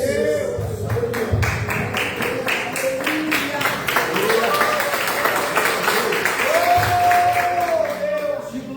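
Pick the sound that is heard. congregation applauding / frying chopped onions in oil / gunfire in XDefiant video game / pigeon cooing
congregation applauding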